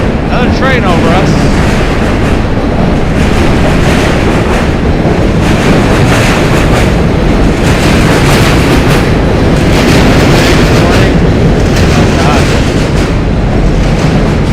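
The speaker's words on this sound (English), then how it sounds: "Train over us." A loud, close rumble of a New York City train passing overhead in Manhattan, with heavy roaring and clattering that fills the whole stretch without a break.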